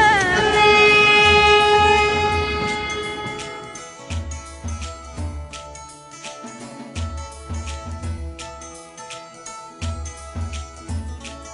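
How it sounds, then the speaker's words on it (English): A small train in Taiwan rumbles past with a sustained horn blast at the start, followed by rhythmic clattering of wheels over rail joints, loud and close. "Train coming, guys, so let's watch"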